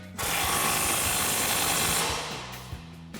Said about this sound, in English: grab our impact with our 19mm socket and a 19mm wrench and tighten that down.